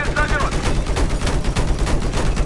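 Rapid, dense automatic gunfire cracks in bursts during a Battlefield 4 firefight, loud and close, with faint voices beneath.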